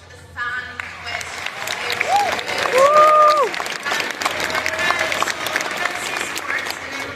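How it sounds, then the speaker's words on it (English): Audience at a Supernatural fan convention panel breaks into loud, sustained applause that rises quickly and holds steady, with cheering and a few voices mixed into the clapping. "Round of applause for the fan quiz."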